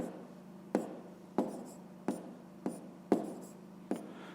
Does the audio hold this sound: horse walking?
no